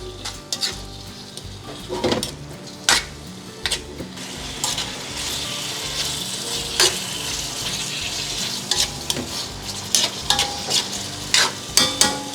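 Spicy squid simmers and sizzles in sauce in a pan, a steady frying hiss broken by frequent sharp clicks and scrapes of stirring utensils against the pan, close and fairly loud, with no voices.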